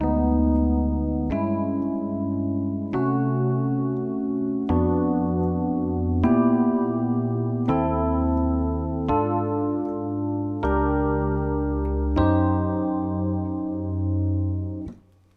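A sustained keyboard chord progression moves steadily counterclockwise through the circle of fifths, about ten chords each held roughly a second and a half, loud and unaccompanied.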